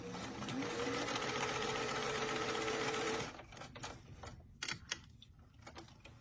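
Home sewing machine stitching the shoulder seams of a small doll shrug jacket, a steady fast whir for about three seconds, then stopping into quiet handling clicks and rustles.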